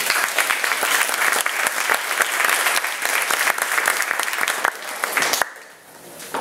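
A room of secondary-school students breaks into lively applause, dense rapid clapping that carries for several seconds before thinning out and fading near the end.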